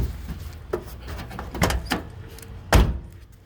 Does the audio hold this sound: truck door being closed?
yes